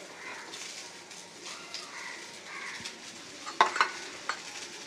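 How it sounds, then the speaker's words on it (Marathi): Onions sizzle and crackle steadily on a hot griddle over medium heat, with a few sharp scraping clinks of a spoon stirring them near the end. "आता परत मी कांदा घालते त्यामध्ये"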